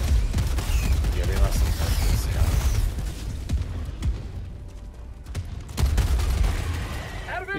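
Sentry turret gunfire in the Helldivers 2 video game, rapid bursts of shots and booms with mechanical clatter, loud and continuous over several seconds, while players talk briefly over the fighting.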